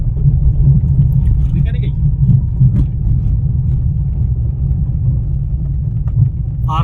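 A car creeping slowly in first gear during a driving practice session produces a steady, low, close engine and cabin rumble that stays even throughout.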